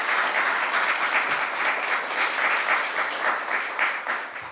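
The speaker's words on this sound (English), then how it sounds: "Let's give them a round of applause." Steady applause from an audience at a New York bill signing held by the governor, dense and sustained clapping throughout with no voices.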